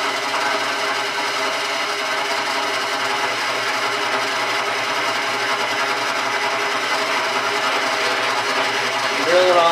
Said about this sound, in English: drill it on down there